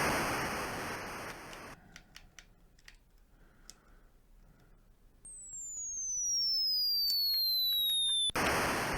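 Artillery cannon fire in the Atari 8-bit game Beach-Head: a burst of harsh noise, then sparse ticking clicks, a long descending whistling tone of an incoming shell, and a sudden loud blast of noise at the end.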